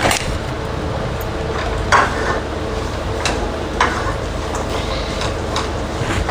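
Ghee going into mango and jaggery jam (gulamba) cooking in a pot, with a soft sizzle and occasional spoon clinks against the metal under a steady background hum.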